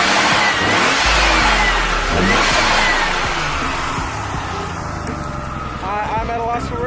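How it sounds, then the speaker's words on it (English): A twin turbo Nissan Z31 engine revs under a little throttle, loud and close, with a rough fluttering rise and fall, and someone talks over it. "Let's give it a little throttle. Do you hear that flutter right there? That twin turbo?"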